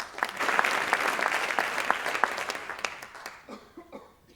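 A school audience applauds a children's performance steadily, a dense patter of many hands that gradually thins and fades out, with a cough or two near the end.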